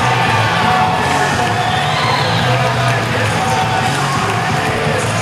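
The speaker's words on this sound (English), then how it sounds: "This crowd is going to erupt in about 5 seconds for Nicole Matthews." At a live ECCW wrestling event, the crowd cheers Nicole Matthews with a loud, sustained roar of shouting, whooping and yelling that fills the whole clip.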